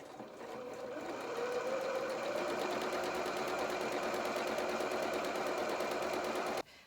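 A sewing machine runs steadily at slow speed while stitching the skirt of a small doll's winter dress, its needle rattling in a close, even rhythm for several seconds before stopping abruptly.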